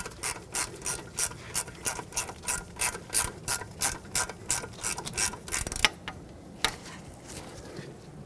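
A ratchet tightens a brake hose bracket bolt on a 2006-2010 Hyundai Sonata during a front wheel bearing job, with a close, rhythmic run of clicking strokes that slows into a few separate clicks near the end.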